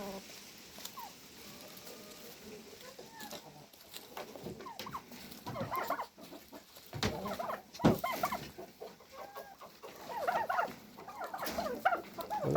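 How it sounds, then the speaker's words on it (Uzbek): Roosters and chickens, including a two-year-old rooster, cluck and crow in short bursts at moderate distance, growing louder and busier in the second half, with scattered other farmyard noise. "2 yillik xo'roz."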